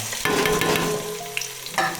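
Spices and garlic hitting hot oil for a Marathi-style phodni tempering, bursting into a loud, steady sizzle after a quarter second, with a few crackling pops near the end.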